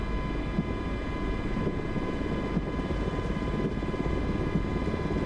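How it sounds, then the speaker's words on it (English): Steady, loud rotor and turbine drone of an MH-60 helicopter in a flight simulator game, taxiing on the ground with a constant engine whine and rumble throughout, no voices. "Taxiing is nice and smooth in this helicopter."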